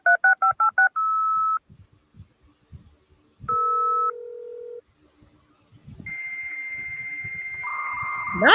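Telephone dialing tones come in a rapid series of short beeps, then longer steady tones and a rising sustained screech, loud and close, resembling a dial-up modem connecting.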